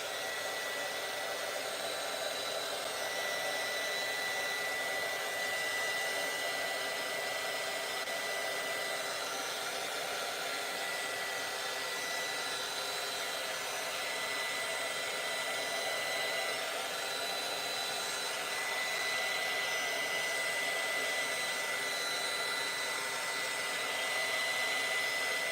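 A hair dryer blows continuously over a watercolour painting, a steady close whooshing roar that holds unchanged throughout with no other sounds.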